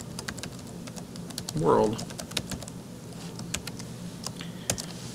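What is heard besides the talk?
typing on a computer keyboard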